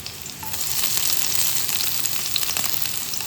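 Ginger, garlic cloves and green chillies frying in hot oil for vegetable noodles, a loud, dense, steady crackling sizzle heard up close with no talking.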